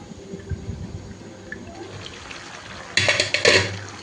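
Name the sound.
water added to mutton curry in pot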